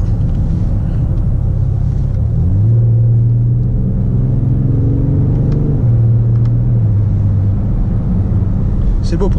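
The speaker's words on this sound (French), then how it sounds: "C'est beau pour un diesel." BMW X5 M50d diesel engine accelerating from inside the cabin: a loud, continuous rumble whose droning tone climbs, holds, then shifts as the revs change, with no breaks.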